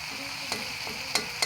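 Boiled potatoes for Maggi noodles are stirred in a nearly dry pan, a faint close sizzle punctuated by three crisp spatula clicks against the metal.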